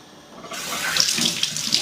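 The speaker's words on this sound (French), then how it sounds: "Je vais rincer un peu mon oignon et mon ail." Tap water runs steadily from a kitchen faucet over onion and garlic being rinsed, starting after a short quiet moment and continuing alone as a close, even splashing stream.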